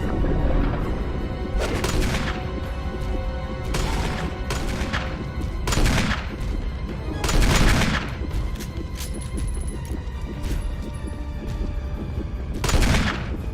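Gunfire in the survival horror game Resident Evil Remake, heavy booming shots landing every one to two seconds over a continuous low rumble of game ambience, with no talking.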